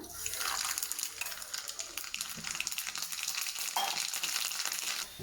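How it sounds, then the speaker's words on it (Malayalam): Mustard seeds splutter in hot oil while a curry tempering is prepared, a dense continuous sizzle with sharp crackling pops scattered through it, close and fairly loud, with no talking. "അതിന് വേണ്ടി കുറച്ച് ഓയിൽ ഒഴിക്കാം, കടുകിടാം,"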